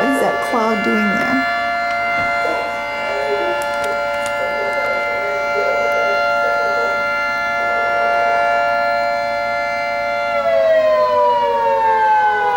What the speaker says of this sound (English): I don't remember a day when the sirens have gone off like this.